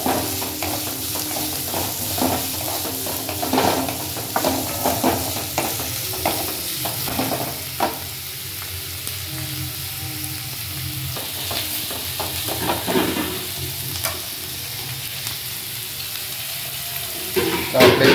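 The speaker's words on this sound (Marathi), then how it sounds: "कांदे लाल होईपर्यंत त्याला फ्राय करायचं आहे." Chopped onions fry and sizzle in a pan with oil for a Marathi drumstick-pod vegetable dish, a steady crackling hiss with occasional scraping stirs close by, no voices.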